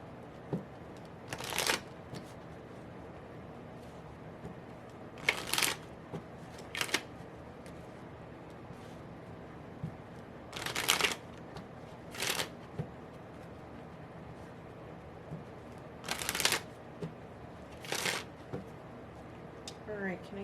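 Tarot cards shuffled in six brisk bursts spaced a few seconds apart, each a short crisp riffle close to the mic, with quiet pauses between and no talking.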